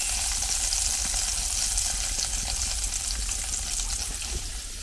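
Mustard seeds hit hot oil and set off a loud, steady, crackling sizzle that holds without a break for the whole stretch, with no voices over it.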